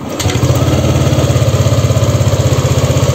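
A Yamaha Lexi scooter engine fires up and settles into a steady, rapid idle, its even low putter pulsing loud and close with no talk over it.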